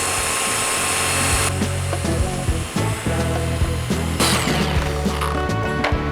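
A polishing machine buffs the paint on a Phenom 100 aircraft, giving a steady, close whirring hum that shifts in pitch as it works.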